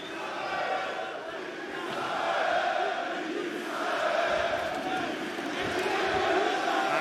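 A French crowd in Paris roars for a local fighter at a PFL Europe MMA event, a loud swelling arena cheer that rises and falls in waves, with a commentator's voice faintly underneath.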